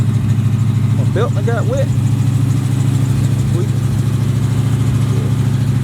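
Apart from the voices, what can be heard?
Chevy box car engine idling on racing gas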